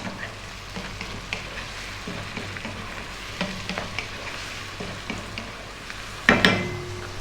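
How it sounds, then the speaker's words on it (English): Thin-sliced mushrooms and bell peppers frying in a pan for pasta, a continuous close sizzle with frequent small scraping stirs and a louder clattering stir toward the end. "Going to drop in those bell peppers now. Those mushrooms, which I've sliced fairly thin. About another 3 minutes, stirring often."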